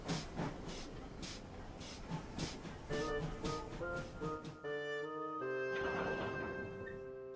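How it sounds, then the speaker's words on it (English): A train reversing down onto a stalled train, giving off rhythmic puffs of steam and hiss followed by sustained tonal whistle-like squeals as it closes in, faint and moderately distant, with no talking. "he reversed down onto the stricken train"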